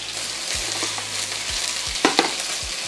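Onion tossed into a hot wok while making chicken chow mein, a loud steady sizzle with several scraping stir strokes of the spatula across the wok, close by and with no voices.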